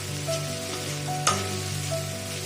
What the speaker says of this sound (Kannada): ಹೀಗೆ ಸ್ವಲ್ಪ ನೀರನ್ನ ಮಿಕ್ಸ್ ಮಾಡಿಕೊಂಡು ಚೆನ್ನಾಗಿ ಫ್ರೈ ಮಾಡ್ಕೊಳ್ಳಿ.